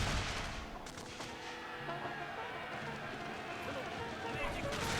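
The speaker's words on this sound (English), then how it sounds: "we're gonna see my Confederate cavalry starting to fire here" Confederate cavalry open fire in a Shogun 2 Total War battle. A dense, continuous roar of distant musketry and battle noise stays steady throughout, with a voice faintly under it.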